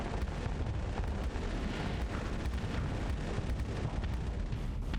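Point defense weapons firing in Starsector, a steady rapid stream of crackling shots and booms layered into a continuous loud barrage with no voices.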